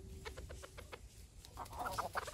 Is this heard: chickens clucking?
yes